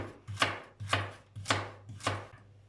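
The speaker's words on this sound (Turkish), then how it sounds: "Bunu da bir olmayacak vaziyette ince ince halka halka doğruyorum" A knife chops two medium carrots into thin rings on a board, four evenly spaced, crisp thuds close up with a faint low hum between them.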